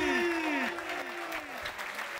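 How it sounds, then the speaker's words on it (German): Audience applause at a beatbox battle, heard beneath a tonal musical sweep and background talk, moderately loud and continuous over the short span. "nochmal einen Applaus für Ibeat."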